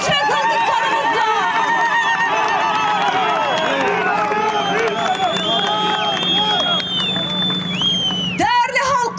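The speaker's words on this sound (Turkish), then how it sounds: "Alkış ve zılgıtlarımızla" Large outdoor crowd at a 1 September World Peace Day march in Amed (Diyarbakır), cheering and clapping with high warbling ululation rising over a dense, continuous roar of voices; loud and close, steady throughout.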